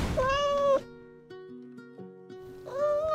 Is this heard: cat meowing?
yes